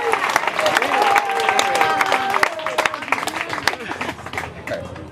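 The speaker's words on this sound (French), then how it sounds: "On acclame le Seigneur Jésus" A church congregation applauds and cheers, a sustained burst of clapping and voices with a person speaking loudly over it, fading toward the end.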